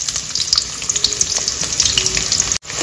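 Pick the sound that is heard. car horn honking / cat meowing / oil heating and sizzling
oil heating and sizzling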